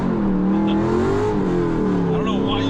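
A Pontiac Trans-Am WS6 with an early iron-block 5.7 liter LS V8 pulls hard under acceleration, its engine note rising steadily and loudly while a person talks over it throughout.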